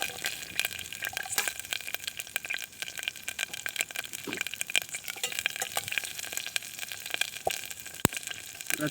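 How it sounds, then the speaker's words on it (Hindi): Onions sizzle and spit in hot oil in a pan on a stove at a camping site, a close, dense crackling hiss that runs continuously, with a few sharper pops and stirring scrapes. "तेल तेल डाल दिया, अभी प्याज डाल देता हूँ अंदर।"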